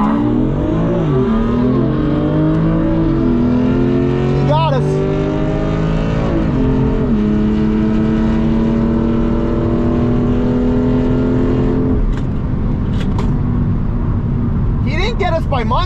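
A stock BMW M2 Competition accelerates hard in a drag race, its engine loud and close as the pitch climbs and drops through several gear shifts over about twelve seconds. People talk and cheer throughout.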